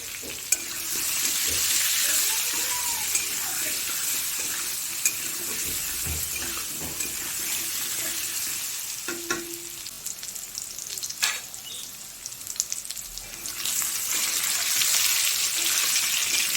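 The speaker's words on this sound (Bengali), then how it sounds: "আলুগুলোকে একটুখানি ভালো করে ভেজে নেব।" Potato pieces frying in a pan with turmeric powder and salt for a chicken curry, a steady close sizzle with stirring scrapes throughout, no talking.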